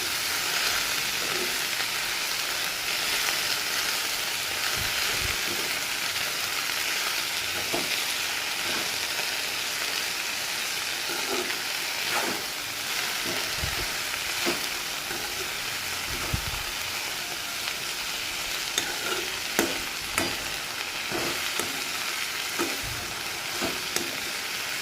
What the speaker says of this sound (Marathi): आता थोडं तेलात परतून घेतली पात